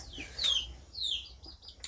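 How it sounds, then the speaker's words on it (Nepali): A chicken indoors gives a few soft, short clucks and squawky calls, fairly faint and close, with quiet background between them. "ला हाम्रो कुखुरा त यहाँ पनि आएको छ त भित्रभित्र।"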